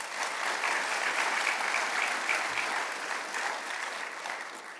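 Steady, dense applause fills a medal of valor ceremony hall, a broad even wash of many hands clapping without pause from start to finish.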